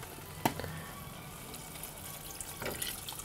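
Water poured from a small filter jug into a cooking pot while making a three-mushroom soup, a quiet trickling splash with a few brief louder bursts, alone and fairly faint.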